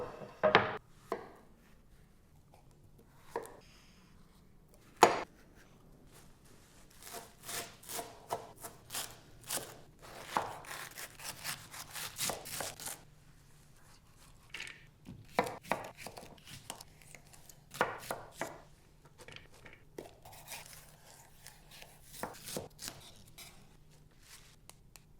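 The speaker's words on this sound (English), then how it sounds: "Now we're gonna chop." Knife chopping parsley on a cutting board: bursts of quick close taps in uneven runs, with short pauses between flurries, some strokes sharper and louder than others.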